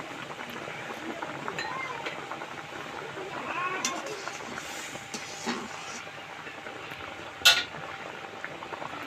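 Spinach curry with bhetki fish head bubbling in a pot, a soft low simmer with faint gurgling and a few clinks of a spoon, one sharp metallic tap near the end.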